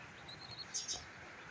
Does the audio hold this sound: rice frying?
no